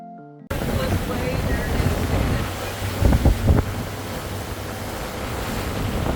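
Rough waves slap against a Nordhavn 35 trawler on the Chesapeake Bay, a steady loud wash with heavy wind buffeting the microphone and a brief burst of harder impacts midway, with no talk.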